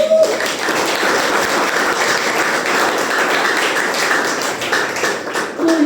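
A seated audience of parents and teachers at a morning school education seminar applauds, a brisk, continuous round of clapping lasting several seconds, fairly loud and close, with faint voices at the edges.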